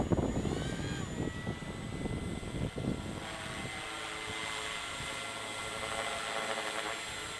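A Ken Luo 230S RC helicopter hovers outdoors on a breezy day, its rotors and motor whizzing in a steady, strained whine with a constant high tone over gusty wind noise.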